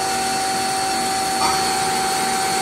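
A CGF lathe chuck spinning up to 3,500 RPM, a steady loud whine with a constant tonal hum and faint buzz, with no talk.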